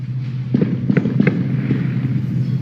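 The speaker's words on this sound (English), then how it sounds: "all these firecrackers and stuff was going off" Firecrackers pop in a scattered series of sharp bursts at a street protest, heard at a distance over a steady low hum of crowd and outdoor noise.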